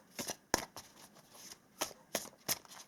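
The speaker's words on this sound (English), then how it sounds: "I want to pull some more cards here" Tarot cards are shuffled and drawn in short, crisp bursts of riffling and snapping, close and fairly quiet, spaced irregularly across a few seconds.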